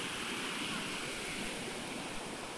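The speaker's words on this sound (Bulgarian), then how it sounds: "доста симпатична рекичка" A small stream flows beneath a wooden footbridge on a forest trail on Guadeloupe, its clear water giving a steady, close rush and hiss without pause, with no voices.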